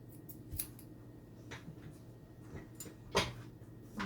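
Grooming scissors snip a dog's bangs, several crisp metallic cuts spaced irregularly and close by over a low steady background.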